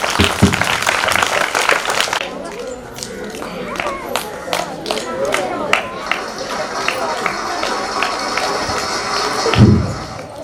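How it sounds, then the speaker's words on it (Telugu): Audience clapping at a high school Sankranti celebration, a burst of applause that fades after about two seconds into scattered claps and crowd shuffling, with a voice heard near the end. "దయచేసి చప్పట్లతో ఆహ్వానించండి."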